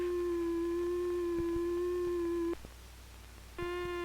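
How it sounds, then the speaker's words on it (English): An electronic oscillator sounds a triangular wave, a sustained buzzy-soft tone with faint overtones. It holds evenly for about two and a half seconds, stops for a moment, then resumes a little brighter. "Another oscillator produces a triangular wave."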